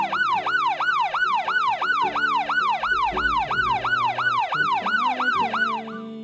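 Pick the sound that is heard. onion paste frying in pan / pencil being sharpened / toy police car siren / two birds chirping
toy police car siren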